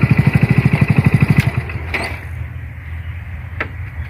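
A motorcycle engine chugs in a fast, steady pulse close by, then fades off as the bike rides away, leaving quiet ambience with a couple of faint clicks.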